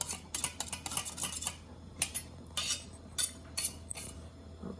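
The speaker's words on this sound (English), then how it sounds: "Just use the knife to get the rest of that in there." A metal knife scraping grated lemon zest off a grater into a bowl, a run of quick bright rasping strokes in short bursts with small clinks, close and fairly quiet.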